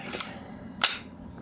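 Two sharp gunshots ring out outdoors as someone shoots at a lawn mower, each a brief crack with a short tail, the second louder, with no talking.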